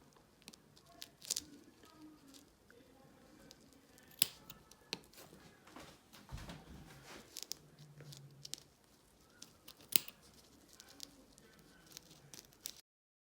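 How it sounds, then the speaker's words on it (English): Small, crisp scissor snips cutting threads on a full cap wig, scattered sharp clicks close to the microphone over a quiet background, with faint handling noises between cuts. "you can kind of go under there and just cut the threads so you can see where you're about to cut"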